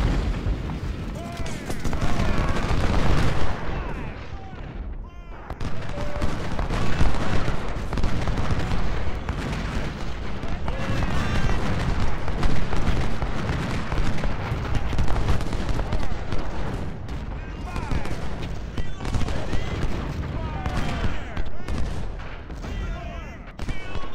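Cannon artillery fire in the Ultimate General: Civil War video game booms again and again in dense, overlapping volleys that are loud and continuous, with someone speaking German over the battle.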